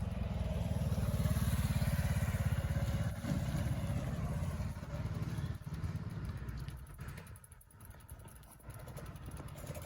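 A motorcycle engine hums steadily and close by on a seaside ride, its drone holding for the whole stretch with slight dips near the end.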